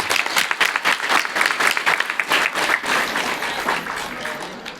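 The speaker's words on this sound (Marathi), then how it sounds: "आपली मात्रा नेण्यासाठी जोरदार टाळ्या वाजवा." A crowd at the closing of a walking pilgrimage applauds loudly, with many people clapping in a dense sustained burst that gradually softens toward the end.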